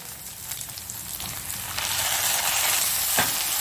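Chopped tomatoes drop into a pan of well-fried onions, and a steady sizzle swells louder midway and keeps crackling, with a brief stir near the end while mint chutney is being made.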